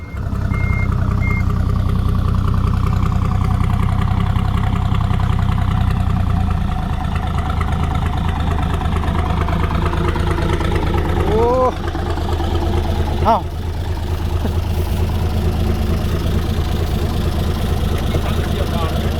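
An excavator engine idles with its muffler removed and a new exhaust pipe fitted, giving a loud, steady, throbbing drone close by, with a brief squeal partway through.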